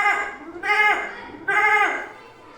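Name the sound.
boy imitating a billy goat's bleat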